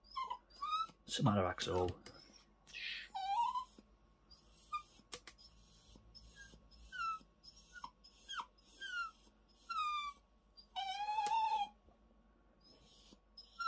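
A dog whimpers and whines near an ECU reading and writing setup, giving repeated short high-pitched squeaks and whines spread across the clip, with someone speaking briefly in between.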